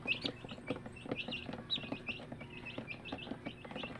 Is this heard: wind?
no